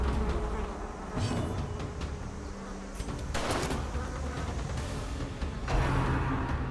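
Steady insect-like buzzing from mosquito enemies in the dungeon-crawler game Darkest Dungeon, a continuous drone that swells and fades over several seconds, with a few brief thuds mixed in and no voices.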